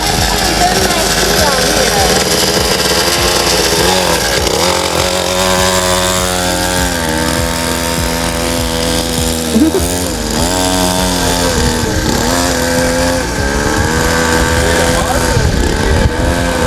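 A Temu 50cc dirt bike engine runs steadily during a test ride, a loud, continuous buzzing drone that rises and falls in pitch with throttle changes, with voices talking faintly underneath.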